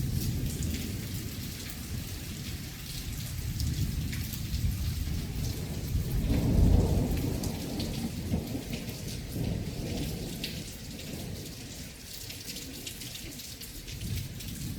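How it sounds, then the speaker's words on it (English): A heavy thunderstorm over South East London pours loud, dense rain, some of it coming in through a window, with a deep rumble of thunder swelling midway through the steady downpour. "Not seen thunderstorms like this since the 80s."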